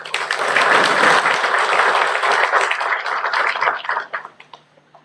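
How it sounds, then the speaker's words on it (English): An audience at an MoU signing ceremony breaks into loud, dense applause that holds steady for several seconds, then thins into a few scattered claps and stops. "Now let's welcome this memorable academic exchange collaboration with a huge round of applause."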